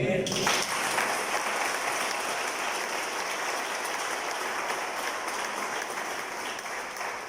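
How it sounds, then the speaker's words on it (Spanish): A church congregation claps in sustained, dense applause that holds steady for several seconds. "¿Cuánto le dan un aplauso al Señor?"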